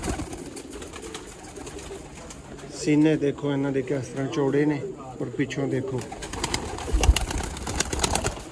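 Low pigeon coos roll on in the background of a loft while someone talks over them for much of the time.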